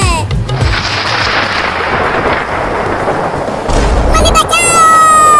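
Thunder rumbles through a heavy rainstorm, a loud sustained roll that swells again near the end, with a voice heard over it.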